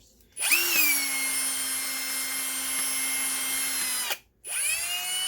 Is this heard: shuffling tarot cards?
no